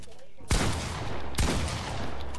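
Gunfire in the Fortnite video game: two sharp, loud shot bursts about a second apart, each trailing off into a rumbling decay, with background game noise between them.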